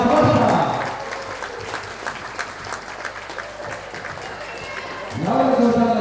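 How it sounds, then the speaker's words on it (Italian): Crowd applause at a Serie B1 women's volleyball match in a gym, steady clapping under loud announcer speech at the start and end. "No, facciamo un grandissimo applauso per Jessica De Valle, forza!"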